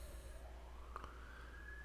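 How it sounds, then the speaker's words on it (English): A rising emergency vehicle siren wails faintly in the distance, continuous and steady with no talk over it. "Sorry if you can hear the sirens in the background."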